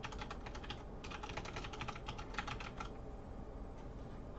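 Fast typing on a computer keyboard produces rapid, irregular key clicks in quick bursts for nearly three seconds, then trails off into sparser taps over a faint background hum.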